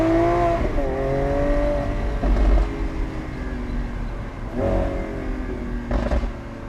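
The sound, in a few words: Lamborghini Aventador SVJ Roadster single-clutch ISR gear shift, engine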